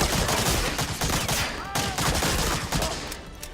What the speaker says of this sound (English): Oh, that was a shot right there.